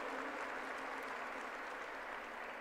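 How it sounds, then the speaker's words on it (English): An audience at a university convocation in Pune claps in a steady, even burst of applause, heard at a faint, distant level with no talking. "let us clap for him, his contributions."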